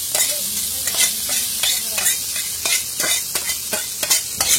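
Chow mein noodles are tossed and stir-fried in hot oil, making a loud, close sizzle. Frequent sharp scraping strokes of a spatula against the pan come in an uneven rhythm, with no talking.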